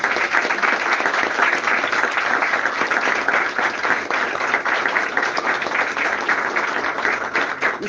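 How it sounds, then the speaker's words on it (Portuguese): A church congregation applauding during a sermon, dense continuous clapping from many hands, loud and steady throughout with no speech over it. "As palmas"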